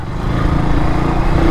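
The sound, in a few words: Kawasaki W175TR motorcycle stock exhaust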